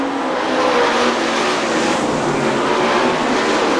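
IRA sprint cars racing at Fremont Speedway in 2003: a loud, unbroken engine roar from several cars at once, steady and close throughout with no pauses.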